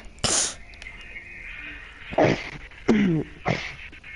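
A single sharp sneeze up close, followed by a few softer throaty vocal noises and sniffs in an otherwise quiet room.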